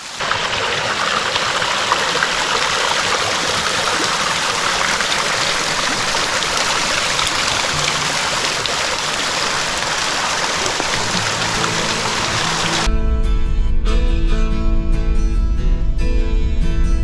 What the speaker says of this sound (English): That's the actual spring, Collier Springs.